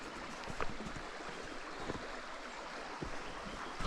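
A river running high after heavy rains beside a muddy path gives a constant, rushing watery wash with faint splashy bursts, heard steadily throughout without any talking.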